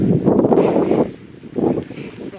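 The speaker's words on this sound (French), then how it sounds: "Le vent." Wind by a lake buffets the microphone in heavy, low rumbling gusts that swell and fade over a couple of seconds, loud and close.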